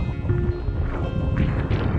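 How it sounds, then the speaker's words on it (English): Cold mountain wind rumbles across the microphone in low, uneven gusts at the top of a climb during the Georgia Death Race, with faint scattered noises beneath and no voices. "But it's cold and windy up here."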